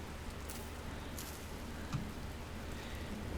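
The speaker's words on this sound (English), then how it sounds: "this rain is a little bit too loud. As much as I love the sound of rain in this game, it needs to be quiet." Steady rain falls in the video game Vintage Story, a soft, even hiss of drops that stays constant and fairly quiet throughout, with no voices.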